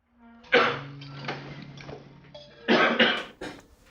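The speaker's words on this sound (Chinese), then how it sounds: "咳嗽几天了？" A person nearby coughs twice in harsh bursts, one early and a louder cluster later, with a faint hum between them.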